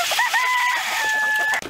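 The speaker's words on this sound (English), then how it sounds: "What's up with all the roosters with your laying hens?" A rooster crows briefly among laying hens on a farm, a short, loud call over background clucking.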